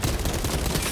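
Gunfire in Warhammer 40,000: Space Marine 2, a dense, loud burst of shots packed into under a second with no gaps.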